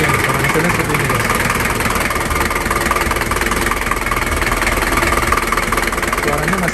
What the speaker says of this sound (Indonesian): Ini suara mesinnya seperti ini guys.